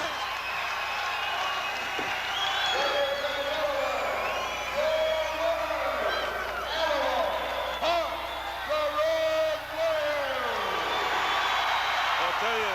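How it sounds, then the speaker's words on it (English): A capacity wrestling arena crowd cheering at a Road Warriors tag match, a steady roar with swelling whoops and shouts throughout, under an announcer's continuous commentary. "there's a capacity crowd here that's tremendously enjoying this"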